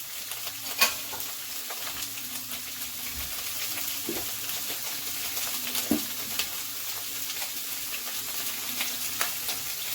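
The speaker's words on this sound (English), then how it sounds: "Now in this saute pan I put a little bit of oil. We're going to add our 1/2 onion." Sliced carrots and half an onion sautéing in a little oil in a sauté pan, a continuous crackling sizzle broken by a few scraping stirs and soft clinks, close and fairly loud, with no talking.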